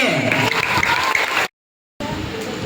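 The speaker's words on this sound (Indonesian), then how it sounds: "boleh tepuk tangan dulu kelas 3C" Schoolchildren of class 3C clap for a classmate at a school assembly, a dense burst of applause that cuts off abruptly into silence and then resumes briefly.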